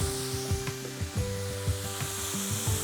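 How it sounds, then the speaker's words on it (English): Calamari frying in a pan is stirred, giving a close, steady sizzle with repeated soft scraping strokes in an uneven rhythm, with no talk. "I'm just going to give it a bit of just a stir."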